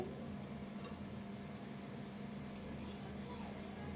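Ridge gourd pakodas frying in hot oil give a steady, even sizzle with a low background hum, continuous and moderately quiet throughout.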